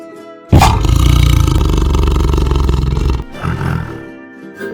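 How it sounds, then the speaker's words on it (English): A tiger gives one loud, close, sustained roar lasting a few seconds, followed by softer rumbling grunts. "A tiger sounds like this."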